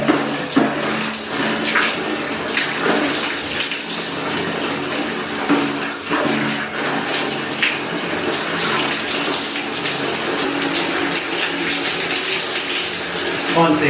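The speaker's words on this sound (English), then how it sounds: "You open the tap, like so. Water pours into the bucket" Water gushing from an open tap into a bucket, a loud, continuous splashing pour with small fluctuations and occasional clunks, sustained throughout.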